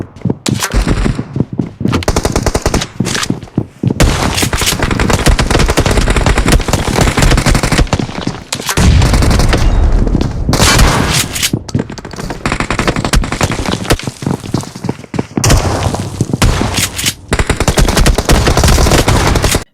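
Intense gunfire in BGMI (PUBG), a mobile battle royale game: loud, near-continuous automatic bursts and heavy volleys overlapping throughout, with only brief gaps between strings of shots and no talking.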